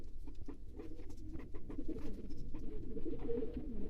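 Butterfly pigeons and homing pigeons cooing close by, a steady low murmur of overlapping throaty coos that runs on without a break.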